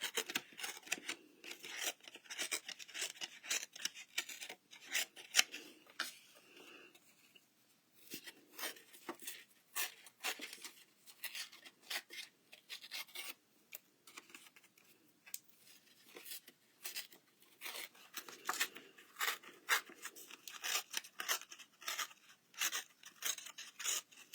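Paper torn slowly toward the body to leave a rough, textured edge for floral stamping cardwork, giving close, dry ripping and rasping bursts that come in repeated strokes with brief pauses, heard alone.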